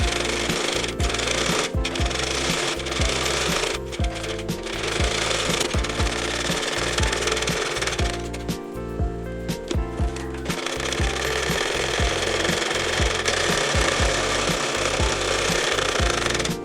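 A sewing machine runs steadily, stitching stone lace along both edges onto a puff sleeve, its needle hammering in a rapid continuous rhythm, loud and close throughout with brief pauses.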